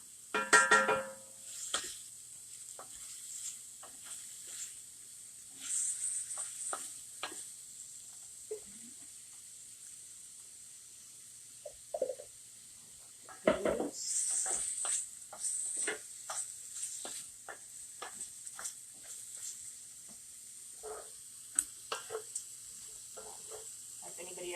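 Radishes frying in a very hot skillet, standing in for potatoes in a Mexican breakfast: a faint hiss and sizzle with occasional stirring scrapes, under and between stretches of talking.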